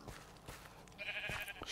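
A Minecraft sheep gives a short, faint bleat or two, quiet and close, with no talking.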